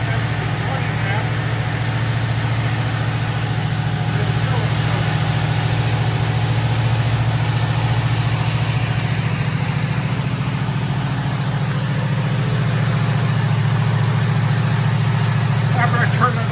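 A 1973 Ford Mustang convertible's carbureted engine idles with a steady low rumble, close and constant, while someone talks over it.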